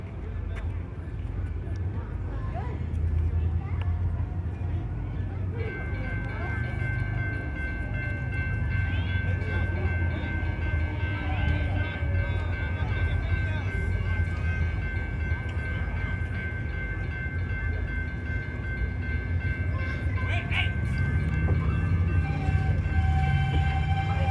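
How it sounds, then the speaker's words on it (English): A train begins to roll with a steady low rumble and rising mechanical hum, sustained throughout at moderate distance, with faint tonal whines; voices talk quietly in the background. "The train's about to move."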